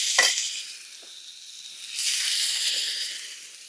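Food sizzles steadily in a frying pan just after being flipped, with a sharp clatter at the start, then a hissing fry that swells and holds before easing, heard up close with no talking.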